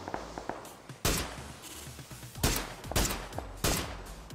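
Gunfire in the battle royale video game PUBG Battlegrounds, several sharp shots in irregular bursts, some close and punchy, others more distant, with faint footsteps between them.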